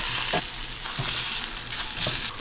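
Salmon fillets hiss and crackle steadily in a hot pan right after being flipped for a salmon bowl, with a few soft utensil taps against the pan over the continuous close sizzle.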